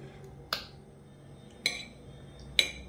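A small spoon scoops set jelly out of a silicone pop-it mould, giving three sharp, light clicks spaced about a second apart, close and quiet, with no talking.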